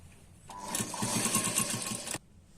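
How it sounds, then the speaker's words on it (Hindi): A sewing machine runs in one short burst of rapid, even stitching along blouse piping, starting and stopping abruptly, close and clear with no talk. "अब ये हमें पाइपिंग के बाजू में सिलाई लगाना है"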